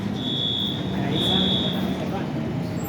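A fire alarm sounds at Roxbury Crossing with a steady high electronic tone in two long pulses, over a constant rumble of traffic and street noise.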